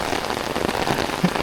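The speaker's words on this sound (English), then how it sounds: "Assuming you can hear me over the rain." Steady rain pours down during a storm along Big Ugly Creek in West Virginia, a dense continuous hiss of drops hitting surfaces, close and fairly loud throughout with no voices.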